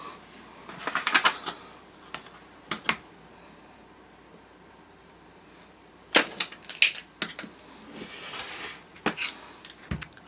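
Scissors trim the excess lining fabric of a crossbody bag: clusters of sharp, close snips and crisp cuts in irregular bursts, separated by quiet pauses, with no talking.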